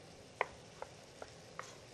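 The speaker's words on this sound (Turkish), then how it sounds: "Şimdi tekrardan bunu biraz daha şöyle ufak ufak doğrayabiliriz." Knife chopping tomatoes into small pieces on a board, four separate crisp cuts at an even, unhurried pace, close and fairly quiet, with no talk.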